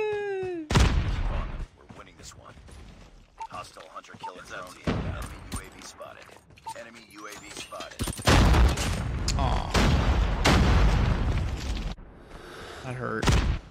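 Heavy bursts of BK57 rifle gunfire in the Call of Duty Mobile video game, loud repeated volleys with booming impacts, sustained and spraying through the second half, with a player's voice talking over parts of it.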